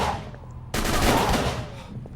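Gunfire in Call of Cthulhu: Dark Corners of the Earth, a dense loud burst of shots that breaks in abruptly after a quieter stretch and rattles on steadily to the end.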